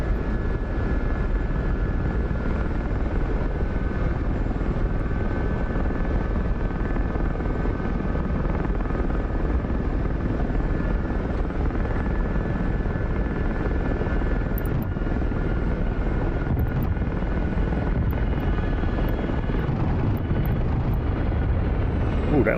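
An SA-342 Gazelle helicopter in the DCS combat flight simulator drones on with a steady, loud rotor and turbine roar that holds constant, dense and unbroken throughout, with no talk over it.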